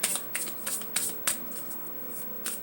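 Close, crisp riffling of a deck of cards being shuffled, with several quick snapping bursts followed by a softer flutter.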